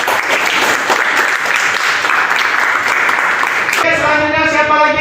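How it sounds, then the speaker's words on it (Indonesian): Classroom of junior high students clapping together, a dense loud wash of hands that fills most of the stretch before breaking off into voices and a sustained tone near the end. "kita tepuk tangan."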